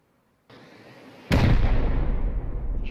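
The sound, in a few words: rocket explosions in the video game Rust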